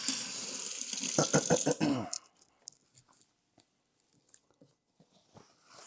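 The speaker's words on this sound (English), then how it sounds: "Let me rinse my hands real quick." Hands rinsed under a running kitchen tap, with a close rush of water for about two seconds, then mostly quiet with faint scattered drips and small handling sounds.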